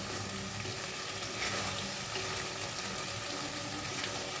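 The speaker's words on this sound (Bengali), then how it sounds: "এবার দেবো টমেটো টুকরো করা এবার আমি এগুলো ভালো করে কষিয়ে নেবো" Chopped tomatoes sauté in a pan with mashed green peas for matar paneer: steady sizzling and frying, a continuous broadband hiss with faint stirring scrapes, close by, no voices.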